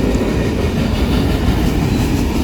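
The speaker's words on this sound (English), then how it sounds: "it's an empty or loaded grain train" A freight train, a grain or potash train in Ohio, rolls past close by. It makes a loud, continuous rumble and rattle of wagons with no break.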